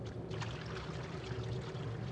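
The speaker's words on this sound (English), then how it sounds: "Fill the flask with the required amount of distilled water." Distilled water pours steadily into a laboratory distillation flask, a continuous close splashing trickle with no talk.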